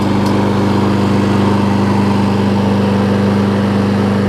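A John Deere JS25 walk-behind lawn mower engine runs steadily at close range just after starting on the first pull, a constant loud drone with a strong low hum and no voices.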